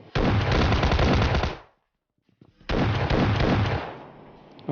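Automatic gunfire in the mobile battle royale shooter PUBG Mobile Lite, two loud rapid bursts separated by a short silence, close and dense.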